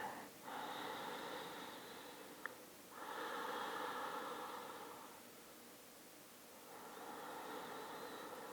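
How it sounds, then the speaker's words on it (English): Deep breaths are drawn during the yoga child's pose, with three long, airy inhales and exhales, close and audible over a quiet room, each rising and fading slowly with pauses between. "Let yourself round and take 3 to 5 deep breaths."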